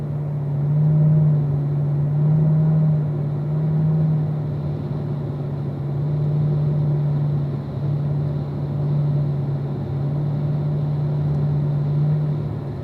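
Car engine droning steadily through a driving lap at the Ron Fellows racetrack, a low, even, in-cabin rumble that swells slightly and never lets up, with no voices.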